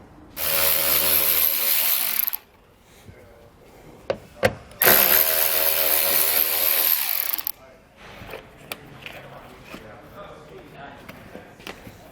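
A power ratchet backs out the 10mm bolts on the front fascia of a 2020 Nissan Rogue in two sustained whirring bursts of about two seconds each, followed by quieter clicks and handling noises.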